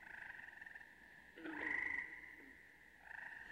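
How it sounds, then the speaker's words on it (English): Leopard frog calling outdoors: faint, pulsing croaks trilling at a steady rate, broken by a slightly louder, longer call in the middle. "This leopard frog is also an amphibian"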